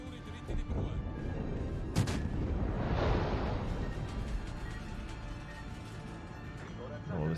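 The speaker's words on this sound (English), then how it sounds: "Wow, this is a lot of torpedo action right here." Torpedo hits and gunfire in a naval battle video game, a dense rumble of blasts and booms with a sharp crack near the start and a swelling explosion midway, all under steady talk.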